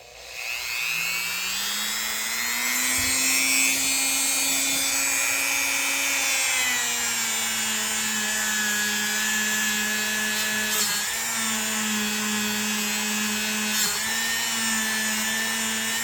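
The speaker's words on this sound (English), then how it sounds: "Usually start out with my trusty number 7 rubbing compound and just give the metal a good cleaning overall." Steady polishing whine of a buffing wheel working number 7 rubbing compound over the metal of a vintage Imperial Kamp King pocket knife, continuous and fairly loud with a sustained rising tone and no talking.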